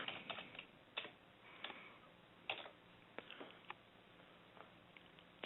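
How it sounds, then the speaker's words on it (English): Keystrokes on a computer keyboard entering a search into a website's search box, a few scattered clusters of light clicks with pauses between them, close and fairly quiet, no talking. "Go ahead and go there and type in LaserGIS."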